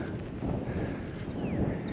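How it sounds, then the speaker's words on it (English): Steady wind buffets the microphone with a low rumbling roar, continuous and fairly loud, with no voices present, at a campground in Palo Duro Canyon. "It's really windy here."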